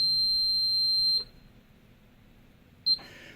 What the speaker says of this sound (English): the slow beep becomes a solid tone